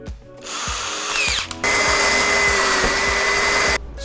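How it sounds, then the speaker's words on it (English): A power drill with a half-inch step bit whines and grinds loudly through material, starting, pausing briefly, then running steadily for a few seconds before stopping. "Now for the half inch step bit."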